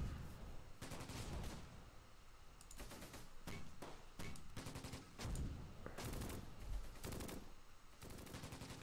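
Mortar and gunfire in the Close Combat war game, a rapid run of sharp, loud blasts and bursts firing in irregular clusters, some overlapping like a fusillade, with no talking.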